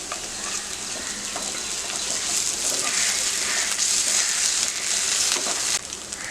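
Chopped onion frying with ginger garlic paste and a pinch of salt in a pan, a steady close sizzle that swells in the middle and drops off near the end.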